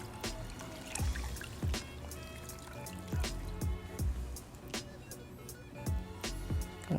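Hot water trickles and splashes while skincare product is rinsed off, with soft intermittent pours and drips close by at a low level, several sharp splashes standing out.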